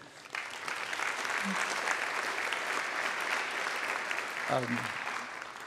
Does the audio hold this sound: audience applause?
yes